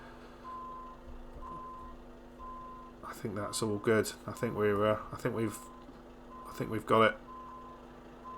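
Truck reversing beeps in American Truck Simulator, a steady evenly spaced tone repeating through the clip while someone talks over it in the middle and end, with engine hum beneath.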